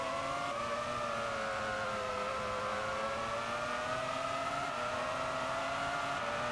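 Formula 1 race cars, Ferraris among them, run at Interlagos during the Brazilian Grand Prix, making a sustained high engine whine that holds steady with slight pitch shifts, fairly quiet and without voices.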